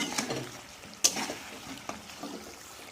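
Mutton curry stir-fried in a pan, with soft sizzling and a few scraping clinks of a spoon against the metal, quiet and close, with no one talking.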